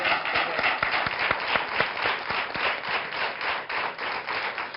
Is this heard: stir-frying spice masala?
no